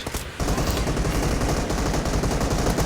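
Shotgun and SMG fire in the PUBG Mobile battle game comes as a dense, continuous rattle of loud shots after a short quieter start.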